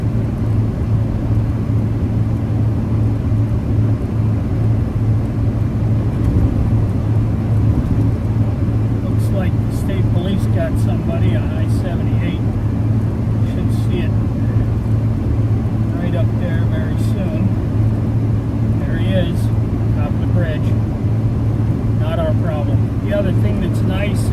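A pickup truck cruises on the road at a steady 60 mph, its constant low engine drone and tire roar filling the cab for the whole stretch with no pauses.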